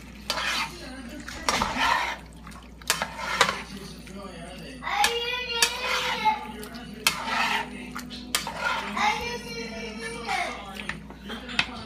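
Pork and bitter gourd with oyster sauce get stirred in a pan, with repeated clinks and scrapes of a spoon against the metal under a light sizzle, while voices talk throughout, including a child's.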